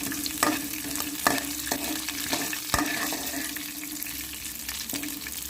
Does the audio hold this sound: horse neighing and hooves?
no